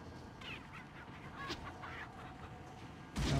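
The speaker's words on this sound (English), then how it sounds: "we don't want to hurt the chickens" Chickens cluck softly in the Wii edition of Resident Evil 4, a low, scattered murmur of fowl sounds that ends with a sudden louder burst of noise.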